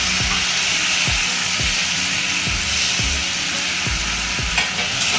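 Grated tomato and spices fry loudly in a pan for a light fish curry, a dense, continuous sizzle punctuated by regular, rhythmic stirring strokes roughly every half second.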